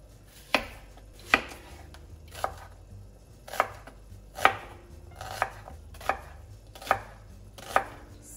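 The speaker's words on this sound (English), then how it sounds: "I'm going to cut up another onion here." An onion chopped on a cutting board, about ten sharp, evenly spaced knife strikes at close range, each a crisp thud with a short tail, with no voices.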